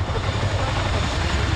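A Chinook helicopter at an airshow taxis backwards down the runway, its engines and rotors making a loud, steady, broadband roar with a low throbbing rumble.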